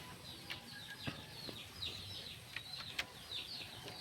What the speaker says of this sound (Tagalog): Pakita ko sa inyo yung ating mga alagang native chicken.